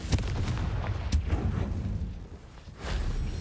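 Confringo blasting spell fired in the Hogwarts Legacy video game, a series of loud, punchy booms and crackling impacts in quick succession with no speech.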